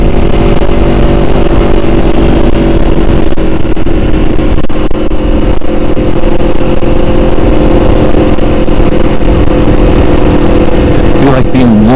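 An Aprilia Tuono motorcycle engine drones loudly and continuously on an open road, holding high revs under heavy wind buffeting with no clear pauses.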